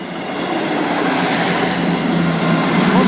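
A Class 158 diesel train rolls slowly over a level crossing close by, giving a steady, broad rumble of wheels and engine that holds at constant loudness throughout, with no voices.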